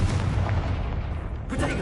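A Confringo fire spell blasts in the Hogwarts Legacy video game, a dense rumbling explosion that swells, fades and flares again over a short burst, loud and close, with a voice speaking over it.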